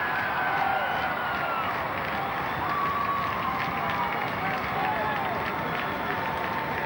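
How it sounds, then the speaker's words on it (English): Arena crowd at an NWA World Tag Team Championship wrestling match, Ricky Steamboat and Jay Youngblood against Sgt. Slaughter and Don Kernodle: a continuous, distant roar of cheering that stays at an even level throughout. "And listen to the crowd."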